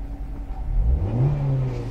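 A 2011 Maruti Suzuki Ritz petrol car runs with its AC on, a close, steady engine hum with a brief rise in pitch, like a light rev, and no talk.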